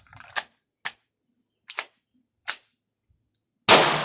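Plastic Whitney Wolverine pistol: a few sharp mechanical clacks of tapping and racking spaced across several seconds, followed by one loud gunshot close to the microphone.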